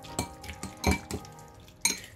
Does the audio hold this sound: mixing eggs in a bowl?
yes